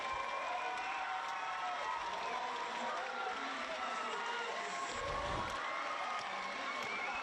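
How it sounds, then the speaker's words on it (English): Home supporters roar after an equaliser at a Liberty A-League women's football match between Newcastle Jets and Perth Glory, a dense, sustained stadium cheer that fills the whole clip without letting up. "And the home crowd erupts."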